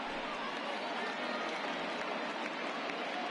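A virtual baseball crowd of about 35,000 in MLB The Show 20 cheers on its feet at an opening-day Tigers game, a steady distant wash of applause and crowd noise at low level.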